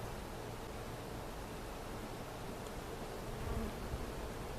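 Honeybees inside an opened beehive, a dense, continuous buzzing hum with no breaks, close and steady, swelling slightly near the end, with no voices.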